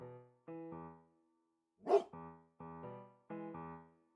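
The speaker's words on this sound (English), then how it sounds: "Bark." An old bloodhound in Stillwater gives several separate barks and woofs, with short gaps between them, close and clear against silence.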